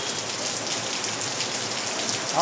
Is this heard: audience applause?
no